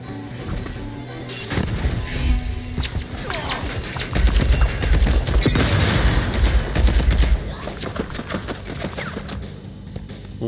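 Gunfire in the video game Deathloop, dense bursts of rapid shots and sharp cracks that build into a loud, sustained volley mid-clip before easing off, with a few clatters mixed in.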